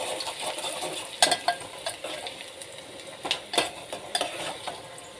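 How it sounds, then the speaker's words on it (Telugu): Green chillies, curry leaves and onion sizzle in a pan for mutton thilli, a steady frying hiss under repeated scrapes and clinks of a metal spoon stirring close by. "వేయించుకుందాం."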